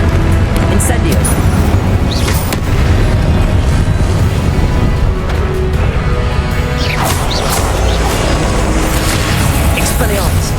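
Incendio fire spell cast in Hogwarts Legacy, a dense stream of booming, crashing magical blasts and impacts that runs loud and nearly continuous, with a voice heard over the effects.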